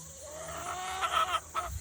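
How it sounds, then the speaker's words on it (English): Egg-laying hens on a family farm make soft clucks and a few short calls, faint over low background noise. "This is a beautiful hen."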